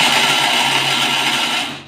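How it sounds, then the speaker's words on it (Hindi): A kitchen mixer grinder whirs steadily at full speed, blending jaggery with sesame seeds and semolina for a sweet til kut, a loud continuous grinding drone that runs alone and winds down at the end. "गुड़ को भी मिक्स चलाएंगे फिर बंद कर देंगे"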